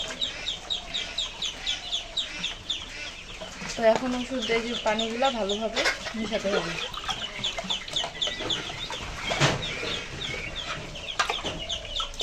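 Chickens on a farm that also keeps ducks, quail and goats cluck and chirp continuously nearby, with someone talking over the flock.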